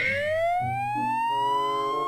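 A rising siren wail from the Siren Head horror video game, loud and close, sweeping steadily upward in pitch over low droning tones, with no voices.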